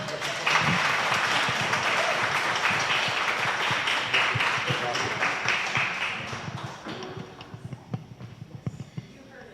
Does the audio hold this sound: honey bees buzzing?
no